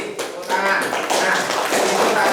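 A classroom group claps hands together in a burst of quick, sharp, overlapping claps, close and fairly loud, with voices mixed in.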